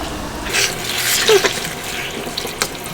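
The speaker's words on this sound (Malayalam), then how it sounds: "ഇനി നമ്മൾ അതിൻ്റെ അകത്തോട്ട് കുറച്ച് വെള്ളം, ഈ പന്നിയിറച്ചി വേവാനുള്ള വെള്ളം കൂടി ഒഴിക്കുക കേട്ടോ" Water is poured into a pot of pork cubes for cooking, a short close splashing gush with a few trickling bursts.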